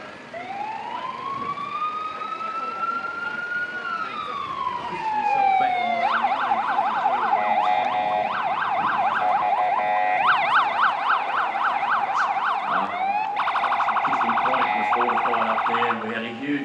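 Police sirens at the end of an ANZAC Day parade, rising wails turning into fast yelps and warbles, loud and sustained, with faint crowd voices beneath.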